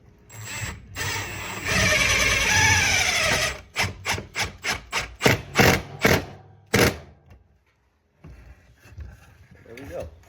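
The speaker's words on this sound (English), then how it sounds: "And then take our drill and we'll screw this into the base." A power drill buzzes steadily, then a series of rhythmic grinding bursts as a screw bites into wood, ending with quieter rustling.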